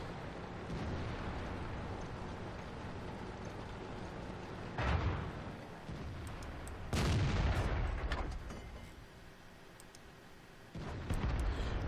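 A tank destroyer's cannon fires in the World of Tanks video game, with about three heavy booms spread apart over a low rumbling background of engines and battle noise.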